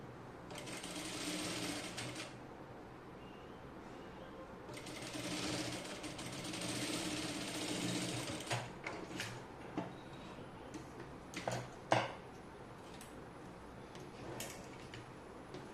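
Sewing machine stitching the neckline of a dress, running in two rapid whirring bursts near the start, then stopping for scattered clicks and fabric handling; no speech.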